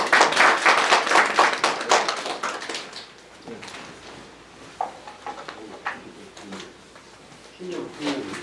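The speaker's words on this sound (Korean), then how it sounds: "박수 부탁드립니다." Applause at a Korean award ceremony for outstanding public officials in Nonsan: a loud burst of many hands clapping that fades after about three seconds, followed by scattered taps, shuffling and people talking.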